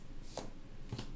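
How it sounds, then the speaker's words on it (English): Tarot cards being shuffled during a reading, two quick soft riffles close by in a quiet room with no talk. "And one more shuffle."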